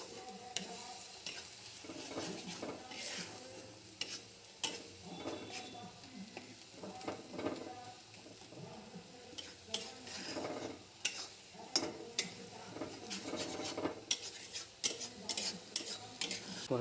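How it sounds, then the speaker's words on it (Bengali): Spice paste stirred into frying onions in a pan, quiet sizzling broken by repeated scraping and clinks of a spoon against the pan, irregular and close, with no one speaking. "এবার দিয়ে দেবো অন্যান্য পেস্টগুলো।"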